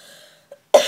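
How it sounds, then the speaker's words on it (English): A single short cough from a person with a stuffy nose and a lingering illness, sounding close and fairly loud after a quiet moment, with a faint earlier throat sound before it. "I've been coughing a lot"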